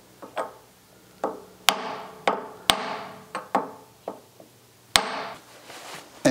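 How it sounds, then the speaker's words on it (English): Sharp metallic taps from a socket gently driving a part into place during an old engine rebuild, about a dozen distinct close knocks in an irregular rhythm with short ringing decay. "I typically put it completely in place with a socket which is about the same size and gently tap it in"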